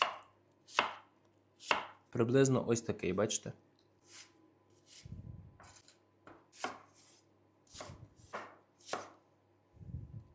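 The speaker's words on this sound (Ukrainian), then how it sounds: "І тепер нарізаю кубиком." Several sharp knife chops on a cutting board as apples are cut into cubes come in irregular bursts, with someone talking briefly in between.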